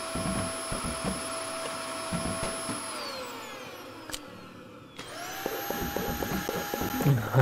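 Vacuum cleaner in the video game Kill It with Fire, a high whine that winds down into near silence and then spins back up, with faint bumps and clatter underneath.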